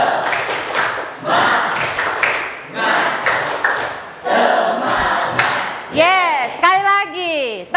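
A school class claps in quick rhythmic bursts, pausing between rounds, and ends with excited shouts and cheering voices.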